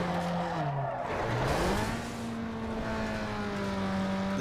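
Car engine in Need for Speed Underground 2, droning steadily, then its pitch drops abruptly as the car shifts gears and climbs back into a sustained high rev, loud and close throughout.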